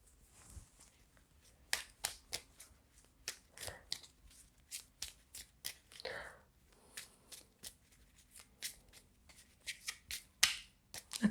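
Tarot cards being shuffled by hand in a run of crisp, rapid riffles and snaps that come in irregular bursts, close and fairly quiet, with no talk over them.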